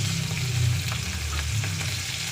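Dried salted fish (tuyo) frying in hot oil in a pan, a steady close crackling sizzle with a low bubbling undertone throughout, no voices.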